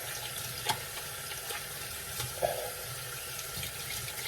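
Tap water runs steadily into a sink while hands are rinsed, a soft continuous faint hiss with a couple of small splashes and knocks.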